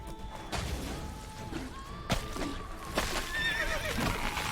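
A horse in The Witcher 3 whinnies in several drawn-out, wavering calls over thudding hoofbeats and a few heavy knocks, loud and close, with no talk.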